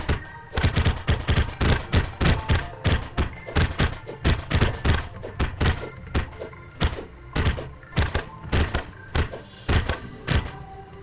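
Blade Tongue melee weapon attacks in a video game land as a rapid train of heavy thunking strikes, several dozen hits at a steady rhythm with brief pauses between bursts, loud and close.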